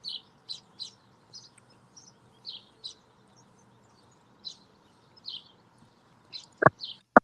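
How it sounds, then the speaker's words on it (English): Small birds chirp outdoors in short bright bursts, repeated a dozen or so times at an uneven pace, fairly faint over a quiet background, with a few louder clicks near the end. "those birds sounds nice"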